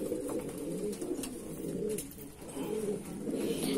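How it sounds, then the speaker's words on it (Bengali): Male Madrasi pigeon cooing steadily at close range, a continuous low throaty burble with rhythmic swells, other pigeons faintly joining in the background. "এটা হচ্ছে নর পায়রাটা।"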